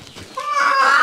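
Single hen in a rural farmyard giving one rising, drawn-out cluck that swells and brightens toward the end, close and fairly loud, no talk.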